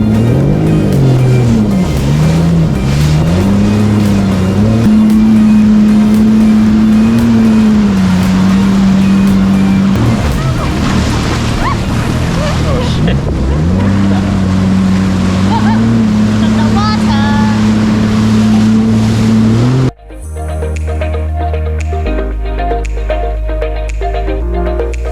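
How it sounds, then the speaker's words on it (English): A jet ski runs on the open sea around an island, its engine droning loudly and steadily with rising and falling pitch, mixed with rushing wind and water, then cutting abruptly to a different steady engine hum near the end. "We had 30 minutes to go anywhere we want around the island on the water."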